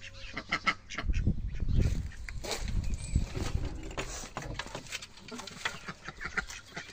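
A pet duck quacks in a garden near a nesting hen, its calls mixed with other birds and outdoor noise, moderately close and fairly loud throughout.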